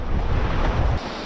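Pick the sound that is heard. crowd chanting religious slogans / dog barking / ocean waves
ocean waves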